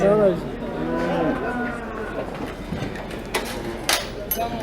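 Cows and heifers at a livestock market in Bolu, Turkey, with one close, loud moo at the start, followed by clanking and knocks from the animals unloading under a busy background.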